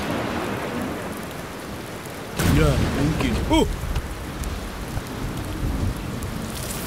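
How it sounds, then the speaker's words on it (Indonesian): Steady rain hisses in an animated cartoon while a loud crack of thunder breaks in partway and rolls off, and a short line of speech comes in under the storm. "Mungkin hujan tidak akan reda sebelum ayam pertama berkokok."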